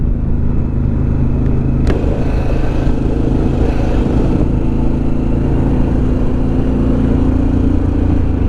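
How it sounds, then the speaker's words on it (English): Harley-Davidson Pan America Special motorcycle engine fitted with an aftermarket exhaust, a throaty, steady low rumble running close and loud throughout, with a brief sharp click early on and no talk over it. "it is an aftermarket exhaust on this bike, so it sounds a little bit throatier than the stock exhaust."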